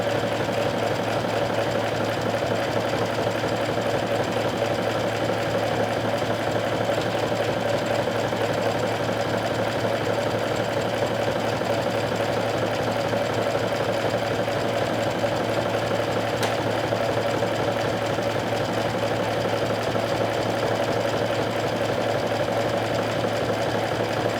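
A sewing machine hems sleeves in a steady, continuous mechanical whir with a rapid stitching rhythm, close and alone for the whole stretch.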